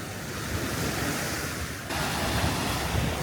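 Ocean waves break and wash against a rocky beach with carved-out rock, a loud, steady roar of surf with wind buffeting the microphone and a swell in intensity partway through.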